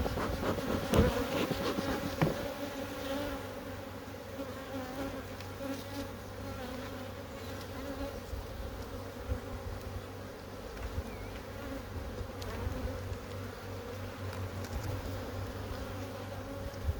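Dense, steady buzzing of many honeybees fills an opened hive as frames are handled, a continuous close drone with a few light knocks near the start.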